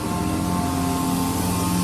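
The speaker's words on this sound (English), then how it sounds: "sound is the truck that is spraying for the mosquitoes for summertime" A mosquito-spraying truck works outside in summertime, heard as a loud, steady broadband hiss with a low droning engine hum and faint tonal whine, continuous and unchanging throughout, with no talking.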